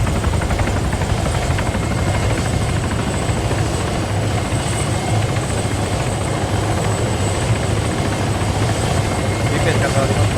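A helicopter in the military video game Arma 3 drones steadily and loudly throughout, its rotor and engine noise constant and close.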